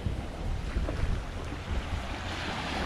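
Ocean waves at a beach in the Cayman Islands at sunset, a constant broadband wash of surf mixed with wind buffeting the microphone, with no voices.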